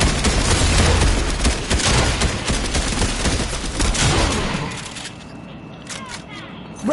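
Fortnite gunfire: loud, sharp shot bursts crack in quick succession for several seconds, then fade to quieter scattered pops and sparse sounds near the end.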